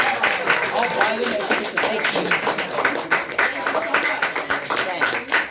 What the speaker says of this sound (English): let's give Gio a big round of applause